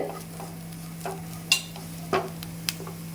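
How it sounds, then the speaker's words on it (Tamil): Curry leaves, coriander and grated coconut are sautéed in a pan for raw mango chutney, with a faint sizzle broken by a few distinct spatula scrapes and taps against the pan over a low steady hum. "இது எல்லாத்தையும் சேர்த்து நல்லா வதக்கிக்கலாம்."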